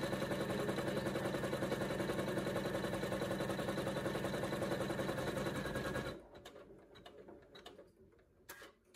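An embroidery machine stitching an in-the-hoop vaccination card holder runs as a steady, dense mechanical whir with fast rhythmic needle ticking for about six seconds, then stops, leaving faint scattered clicks.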